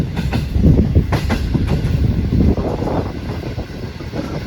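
Awam Express passenger train running on rails, a steady loud rumble of wheels and carriage with rhythmic clatter throughout, heard from on board with no talking.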